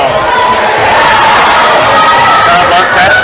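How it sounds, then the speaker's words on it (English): An indoor crowd at a top rope climbing competition, cheering and shouting loudly and continuously at a close, dense level, with voices blending into a steady roar. "Nice round of applause by the crowd"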